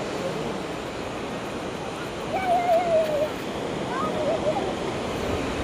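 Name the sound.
waterfall rushing water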